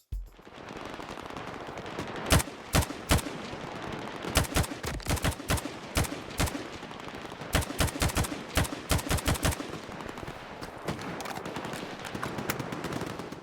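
Rapid two-round rifle bursts from S.T.A.L.K.E.R. 2, close and loud, firing in clustered pairs and short volleys with brief pauses between bursts over a steady background hum.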